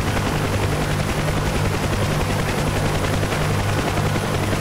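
In the DCS flight simulator, a UH-1 Huey helicopter's rotor and turbine engine run at a stabilized 6600 RPM before takeoff, a loud, constant, dense drone with a steady rhythmic beat throughout.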